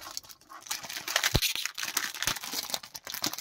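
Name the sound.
opening packaging of Street Fighter Ichiban Kuji logo figure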